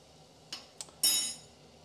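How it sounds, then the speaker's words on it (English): Eggs dropped into a pot of rolling boiling water, giving two brief light clinks followed by a louder splash-like burst that fades over about half a second, near and alone. "Add your eggs in and time for 7 minutes."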